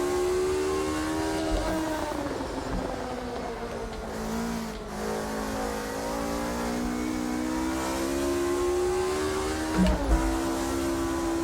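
A race car drifting on the 1971 Nurburgring in the Automobilista 2 racing game, its engine holding a loud, steady high-revving drone with shifting pitch throughout and no talk over it.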